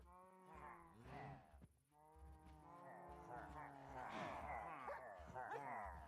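Minecraft dogs in the video game growl and yip in short, harmonic, whiny bursts, close and fairly loud, repeating with brief gaps.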